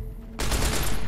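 Rapid automatic gunfire erupts suddenly in the video game Fallout New Vegas, a loud sustained burst of shots that starts abruptly after a short quiet lead-in.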